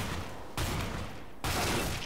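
Bursts of gunfire in Counter-Strike: Global Offensive, two loud broadband volleys separated by a brief quieter gap, filling the whole moment with dense, sustained shooting and no talk.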